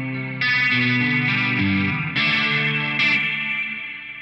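An electric guitar set to a Clapton Cream-era Gibson ES-335 style tone with big hall reverb plays a few sustained, distorted chords and notes, each ringing out with a long, washy tail.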